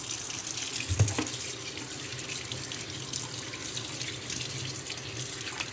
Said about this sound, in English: you're also going to want to give it a quick rinse and try to get as much paint off as possible